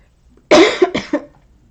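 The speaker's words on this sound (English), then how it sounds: "They just want me to cough." A single close cough breaks out in two or three quick bursts after a moment of quiet, then fades back to silence.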